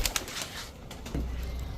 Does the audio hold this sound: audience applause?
no